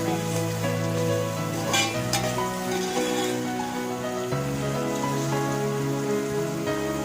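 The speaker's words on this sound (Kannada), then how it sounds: "ಎಲ್ಲ ಹಾಗೆ ಫ್ರೈ ಆಗಬೇಕು" Vegetables and tomato frying in a pan for homemade upma (uppittu), a steady crackling sizzle like rain on a surface, continuous and fairly loud with no talking over it.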